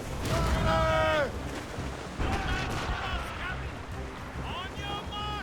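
Heavy booming cannon fire in a naval battle in Assassin's Creed Rogue rumbles beneath shouted crew voices, with bursts of low blasts and crashing impacts.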